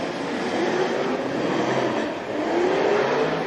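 Drift cars sliding side by side through a Formula Drift battle run in the Royal Purple Top 16 produce a constant, loud roar of engines and tyres, with rising engine tones and no talking.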